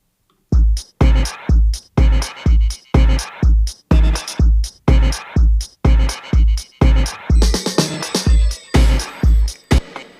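Hip-hop track built on a pitched-up, tuned melodic sample with delay and autopan, the sample hitting on every snare; steady punchy beat pulses about twice per second, with denser, brighter layers entering toward the end.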